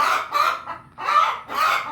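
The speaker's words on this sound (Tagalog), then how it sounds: "Yan, yan yung mga madidiwarang manok." Farm chickens cluck loudly and busily at close range after one hen has laid an egg, several birds squawking in overlapping bursts with brief pauses between.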